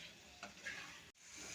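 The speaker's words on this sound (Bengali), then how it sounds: "ভালো করে নেড়ে নেব, মশলার সাথে ভালোভাবে একটু কষিয়ে নেব।" Potato and papaya are stirred and sautéed with spices in a pan, giving a faint steady sizzle with soft scraping stir sounds and a brief clink near the end.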